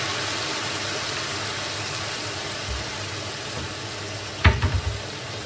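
Soy sauce poured over chicken feet adobo with lemongrass frying in a pan, a steady loud sizzle throughout that flares into a sharp burst of crackling near the end.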